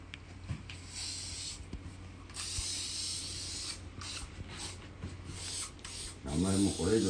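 Grooming spray hisses onto a standard poodle's coat in short close bursts mixed with rubbing and brushing sounds, and a voice speaks over the final second.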